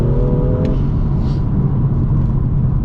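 A modified BMW M2's N55 engine roars steadily with a deep, throaty rumble while driving, loud and close throughout.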